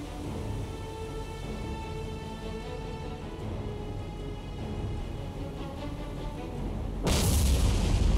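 Torpedoes strike a ship in the naval combat game War on the Sea, a low rumbling boom building over steady engine drone, then a sudden loud, wide blast bursting near the end.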